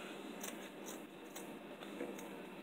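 Scissors cutting through old denim jeans make soft, rhythmic snips, about five crisp cuts spaced roughly half a second apart, heard close but quiet over a steady faint hiss, with no talking.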